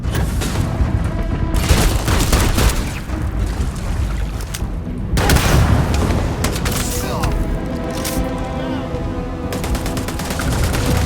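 Sci-fi gunfire in the video game Starfield: rapid bursts of automatic weapon fire and heavy booming shots overlap in a loud, continuous firefight, with voices heard during it.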